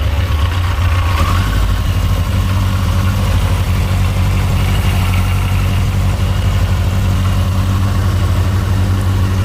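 Yamaha XJ900F motorcycle engine idling steadily with silencers fitted, a continuous low rumble held close and even throughout with no revving.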